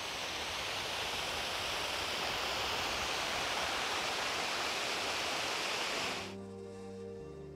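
Small waterfalls in Freiburg, Germany pour in a steady, loud rush of broadband water noise close by, dropping off abruptly near the end as a quieter background remains.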